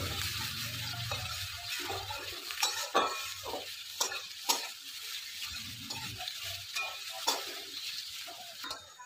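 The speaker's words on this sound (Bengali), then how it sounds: "পেঁয়াজটা এখন নেড়ে নেবে" Onions stirred and fried in a hot pan, a steady oily sizzle under repeated scraping strokes of a spoon against the pan, close and clear, with no talking.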